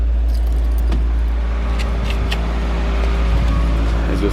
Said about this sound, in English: But pop the hood.